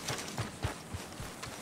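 Horse hooves clip-clopping on the ground in the video game Red Dead Redemption 2, a steady, soft, evenly paced walking rhythm of hoof falls, fairly faint and close, with no voices.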